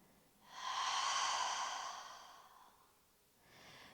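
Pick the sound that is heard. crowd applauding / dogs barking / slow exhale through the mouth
slow exhale through the mouth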